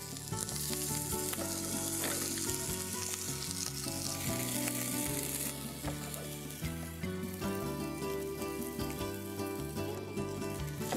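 Stuffed capsicum chilies fry in a pan with a steady, dense sizzle that holds for the whole stretch, close and fairly loud, and nobody talks.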